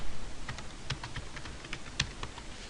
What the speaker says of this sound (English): So I'm going to type intersect